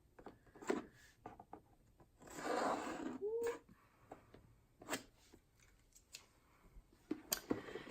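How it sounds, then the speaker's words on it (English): Scissors cut open a Sephora subscription box in a quiet room, giving soft, close snips and plastic-and-cardboard scraping with a burst of rustling partway through, followed by scattered light clicks and taps. "Let me grab my scissors here, open this up"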